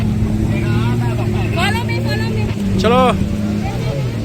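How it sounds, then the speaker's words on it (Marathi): A tour boat's engine drones loud and steady at an island jetty as it comes in, a low continuous rumble with voices talking over it. "ही बोट आता लागलेली आहे."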